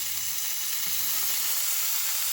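Bacon sizzling in a frying pan during a full breakfast cook-up, a steady bright crackling hiss that stays loud and even throughout with no talking.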